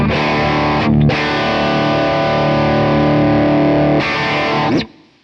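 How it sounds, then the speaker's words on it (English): An electric guitar runs through a Kemper amp with compression, its intensity knob adding gain, playing a loud sustained distorted chord that cuts off briefly, rings again, then fades out. "The way that the intensity knob is adding gain through compression, not necessarily clipping, but doing it a little bit differently than a traditional overdrive pedal"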